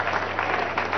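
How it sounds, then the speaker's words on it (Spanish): A crowd at a Venezuelan political congress with President Nicolás Maduro claps for Bolívar. The burst of applause is brief and steady, with a low steady hum underneath. "Vamos a darle un aplauso a Bolívar"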